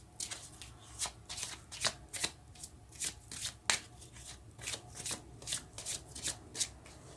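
Tarot cards being shuffled by hand in a quiet room: a soft, rapid series of papery riffles and slaps, repeating in an even rhythm, close and fairly faint, with no talking.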